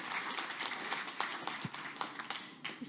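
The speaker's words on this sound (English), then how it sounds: "Big applause for you" Audience applause welcoming a speaker at a corporate reverse-pitch event, brisk overlapping hand claps with distinct sharp individual claps throughout, fairly close and steady, with no voices.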